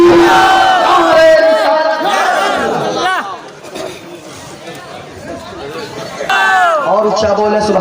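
At a religious gathering, a crowd roars back in unison to a lead voice's takbir call, loud massed shouting that swells, dips into a murmur, then rises again.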